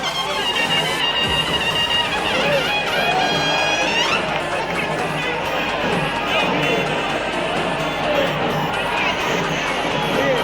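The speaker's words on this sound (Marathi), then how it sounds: "एकदा जोरदार टाळ्या झाल्या पाहिजेत माननीय श्री एकनाथरावजी शिंदे साहेबांसाठी" A large crowd cheers and claps continuously for Eknath Shinde at a Shiv Sena rally in Mumbai, Maharashtra, dense and loud throughout, with shouting voices mixed in.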